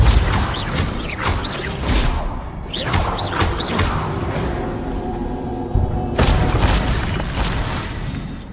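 Depulso spell cast in Hogwarts Legacy, loud whooshing magical blasts and thumps amid crashing combat effects, several bursts with a heavy impact near the end.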